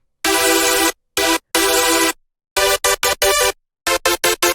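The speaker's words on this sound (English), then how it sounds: "grab yourself a wide detuned super saw that happens to sound a little bit something like" A thick, wide detuned supersaw synth stabs out chords in a rhythmic pattern of long and short hits, loud and dry, with no talking.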